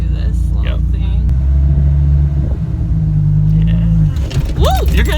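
Dodge Viper with a manual gearbox pulls away, its deep engine rumble steady and loud with a rise in revs, while people talk and laugh over it inside the cabin.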